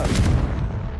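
Confringo blasting spell exploding in Hogwarts Legacy: a loud, booming burst with a heavy low rumble that rolls on for about a second, with no voices.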